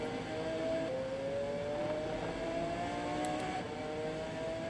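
Race car engine in Assetto Corsa at Brands Hatch Indy, a GT-bodied car with F1-like underpinnings, holding a steady high whine that climbs slowly in pitch through the gears, constant and close with no talk.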